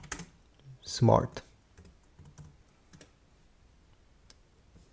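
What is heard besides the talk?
typing on a computer keyboard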